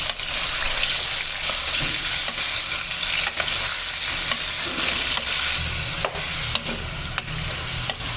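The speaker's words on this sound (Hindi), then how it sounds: "अब चिकन को थोड़ा सा भून लेंगे।" Chicken pieces fry in hot oil in a karahi for Afghani chicken karahi, giving a steady loud sizzle broken by occasional scraping stirs, with no voices.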